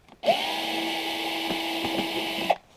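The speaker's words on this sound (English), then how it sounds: "So we will take our screw gun" A screw gun backs machine screws out of the chassis of a Marshall Class 5 amp in a single steady whirring run of about two seconds. It sits close and clear, with a click as it starts and stops.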